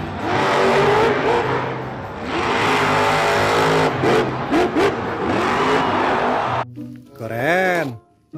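A toy monster truck produces a loud, buzzy engine roar with revving, warbling pitch swings and short bursts, followed near the end by a rising and falling siren-like whoop.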